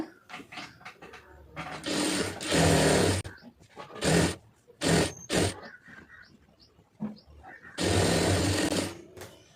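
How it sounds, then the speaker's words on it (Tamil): Close by, a sewing machine stitches a seam on cigarette pants in several short, loud bursts, with quieter pauses and handling sounds between the runs. "இப்போ இந்த ஜாயிண்ட் வரைக்கும் அதை அப்படியே தையல் போட்டு அதை வந்து எடுத்துருங்க"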